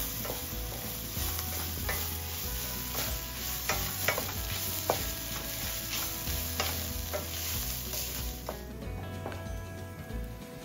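Grated coconut sautéed with onion masala in a pan for an Indian-style lobster coconut masala, a continuous close sizzle with repeated scraping strokes of a spoon stirring at an irregular pace.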